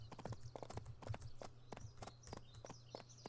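Horse hooves from Barbie Horse Adventures: Mystery Ride video game, a steady rhythmic clip-clop of a walking horse, crisp and close, repeating evenly throughout without talk.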